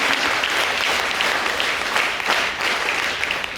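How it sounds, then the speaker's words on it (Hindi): A college audience gives loud, sustained applause for an honoured NCC cadet at a special award ceremony. The clapping is thick and even, with slight swells, and no voices stand out. "तालियां आप बजा सकते हैं।"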